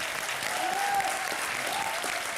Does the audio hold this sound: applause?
yes